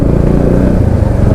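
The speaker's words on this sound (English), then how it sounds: "But love the exhaust note on this bike" A motorcycle's exhaust note while riding at steady cruising speed under 60 with no hard acceleration: a loud, close, continuous low engine drone with a slight throbbing pulse.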